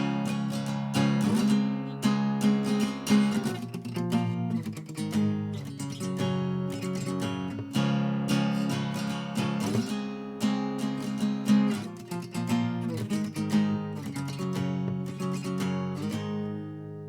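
A whole song verse plays on acoustic guitar in a continuous run of rhythmic chord strums and slides up to barred positions, nearby and without any talking.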